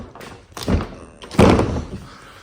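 A tri-fold truck bed cover folds forward in two heavy hollow thunks, close and loud, with rattling as the panels settle.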